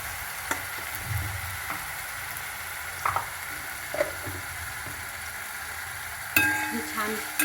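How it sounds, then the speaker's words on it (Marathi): Spoon scraping and stirring dal in a pot after turmeric is added, a few distinct clinks and scrapes over a low simmering hiss, close and fairly quiet with no talking. "छान हलवून घ्यायचं"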